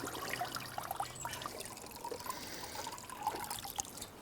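Water drains and trickles out of a Gosvor LiteVac G1 robotic pool vacuum, a quiet, steady dribbling splash with small drips, close by and faint.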